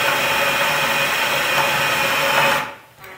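A drill press bores a hole through a threaded rod and nut for a woodworking vise, a steady loud whine with a faint high tone, grinding on alone for over two seconds before cutting off abruptly.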